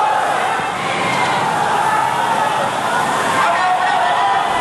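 Large protest crowd roaring and shouting as riot police move in with water cannons, a steady dense wash of voices and rushing spray, loud and continuous throughout.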